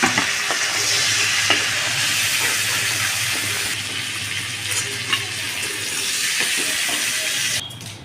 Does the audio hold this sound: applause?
no